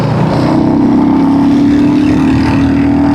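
A Royal Enfield Hunter 350 motorcycle pulling hard in third gear, its loud, steady engine drone with rising pitch and heavy wind rush from close by, no talking.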